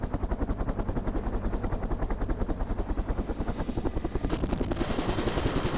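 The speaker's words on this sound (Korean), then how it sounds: "강화를 위해 헬기에 탑승하는 대원들." A military helicopter during marine corps airborne infiltration training thumps with a fast, steady rotor beat close by, loud and continuous, with a brighter turbine whine rising near the end.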